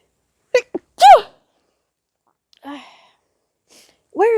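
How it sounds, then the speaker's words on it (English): Several close, loud sneezes and sniffly bursts come from one person, separated by short silences. "I'm gonna sneeze."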